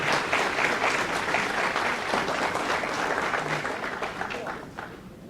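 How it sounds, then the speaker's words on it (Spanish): A conference audience applauds the panelists with steady, dense clapping that holds for several seconds before easing slightly at the end. "Les voy a pedir un aplauso adicional final para nuestros panelistas."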